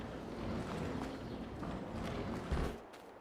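Horses' hooves clip-clopping in Farming Simulator 22, a steady soft run of hoofbeats at moderate distance, with no talking.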